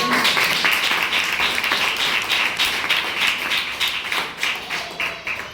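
A church congregation at a Friday fasting prayer meeting claps loudly in a fast, steady rhythm that fills the room for several seconds without letting up.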